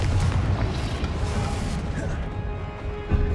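Explosive Confringo spell blasts in Hogwarts Legacy, a loud booming crash at the start that rumbles and crackles on, with a second thump near the end and a voice faintly present.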